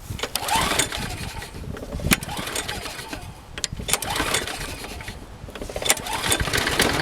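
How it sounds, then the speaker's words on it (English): Rusted self-propelled Scotts lawn mower with a 6HP Briggs & Stratton engine starting up and running, a steady rattling putter with a few sharp pulls and surges over several seconds. "Let's see if it'll start."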